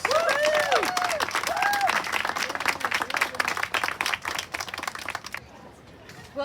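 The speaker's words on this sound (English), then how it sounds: "if everybody could give him a big round of applause" Crowd applause welcoming a guest at an outdoor French Heritage Day event in Winooski, with dense steady clapping and some speech over it, fading out near the end.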